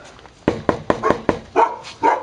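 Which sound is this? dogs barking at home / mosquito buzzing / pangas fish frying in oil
dogs barking at home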